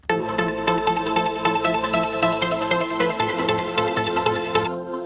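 Layered synthesizer pads with a repeating melodic line and steady rhythmic pulses from a trance track, full and bright, cutting off abruptly near the end.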